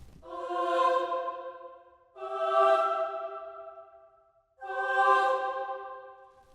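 Three short, light orchestral swells from the Spitfire Audio Contrast sample library rise and fade one after another, each breathy and bright, separated by brief gaps, close and alone.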